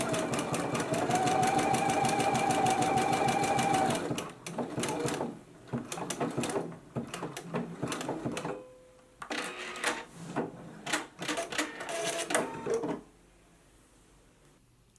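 A sewing machine stitches the center back seam of a loungewear top's neckband at a 5/8 inch allowance, a close, steady whirring run for about four seconds, then bursts of rapid stitching and clicks between pauses.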